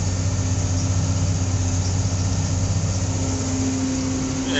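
A tractor engine running steadily in four-wheel drive while hauling manure, with a constant low droning hum and no talk. The tires slipping are not clearly separate from the engine noise.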